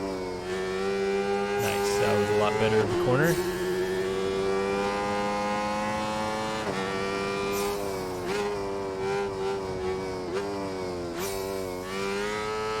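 A motorcycle engine in the video game Ride 4 revs and accelerates through a rainy career-mode race, its rising and falling pitch shifting between gears close and loud, while someone talks over it.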